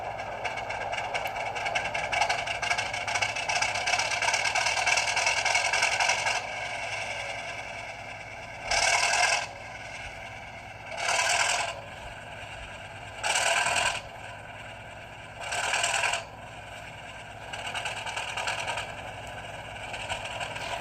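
Athearn SW1500 HO-scale model locomotive with TCS WOWDiesel sound running its startup sequence, a steady idling diesel rumble with four evenly spaced bursts of hissing air, heard alone and fairly quiet.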